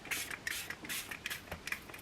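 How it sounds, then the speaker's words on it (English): Beauty Crop Glow Milk setting spray misted from a pump bottle in a few short, hissy bursts spaced unevenly, close and fairly quiet, with no talking. "This is what I'm always using, which is the Beauty Crop Glow Milk setting spray."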